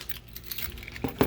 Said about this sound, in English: We'll grab the keys